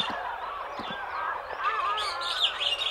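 A big black crow calls in an animated folk tale, several harsh cawing notes near and loud, overlapping with other bird-like honking sounds.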